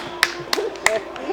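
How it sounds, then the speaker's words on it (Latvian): A few sharp, separate hand claps ring out at roughly even intervals, close by, alongside quiet talking. "Tur goda vārds ir aplausi."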